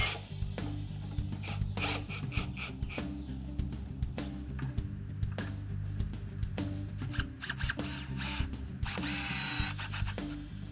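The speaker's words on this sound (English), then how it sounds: "I like to place the washer in the post hole first, then insert the screw and start screwing." A screw gun whirs in short bursts driving a screw with a washer through a Simpson Strong-Tie post base into a wooden post outdoors, close and steady with brief pauses and clicks.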